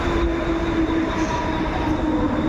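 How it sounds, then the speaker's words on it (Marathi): A Wadala local train rolls into a station with a heavy, close rumble of wheels and carriages and a thin high squeal riding over the noise. "आता मिळणार वडाला ट्रेन"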